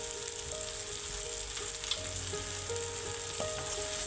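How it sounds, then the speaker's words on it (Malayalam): Sliced onion, crushed garlic and green chillies fry gently in a pan for a Kerala-style potato dish, a soft, even sizzle with a few light stirring knocks, fairly quiet and without voices. "ഇനി നന്നായി ഒന്നുകൂടി ഇളക്കി വഴറ്റി വയ്ക്കുക"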